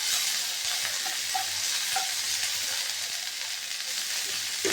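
Chopped onion and curry leaves sauté in a pan for a Tamil-style bottle gourd poriyal, giving a steady close sizzle with scraping stirs throughout and no talking.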